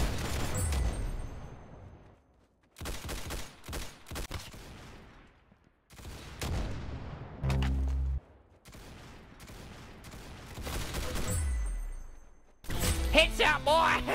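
Gunfire rings out in a Roblox Arsenal match on the Sandtown map, with bursts of shots separated by short silences, loud and close, plus a low blast near the middle and a sharper clatter at the end.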